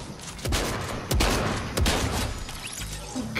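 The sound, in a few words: SMG firing in a video game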